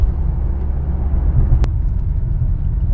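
A BMW car driven gently after warming up, with light throttle in comfort mode, gives a steady low engine and road rumble heard from inside the cabin. One brief click sounds partway through.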